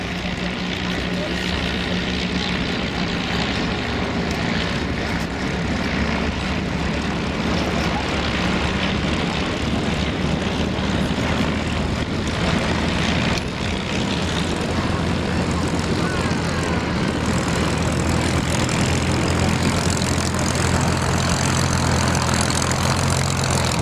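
Propeller aircraft flying in Vic formation at an airshow at Duxford sweep overhead. Their engines make a loud, steady, broad roar that builds slightly as they pass, with a commentator's voice audible over the noise.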